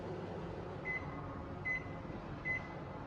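A microwave oven hums steadily while heating an egg, with three brief, faint tonal blips spaced evenly through the drone.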